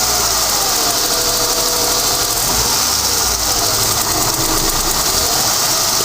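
A Ford EF Falcon engine with an idle problem idles continuously, rattling and uneven, nearly stalling, with a mechanical ticking and whirring close by, steady in volume throughout and with no one speaking.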